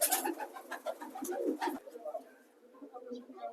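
Pigeons kept by a pigeon fancier coo in short repeated bursts close by, with some background chatter mixed in.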